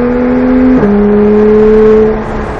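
A Porsche 911 GT3 engine revs loudly and steadily, its pitch dipping briefly as it shifts, then holding a strong drone that eases off at the end.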